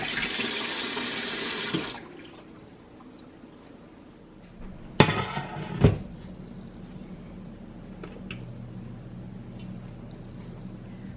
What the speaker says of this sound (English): We're going to cover this with cold water and let it sit for 2 hours.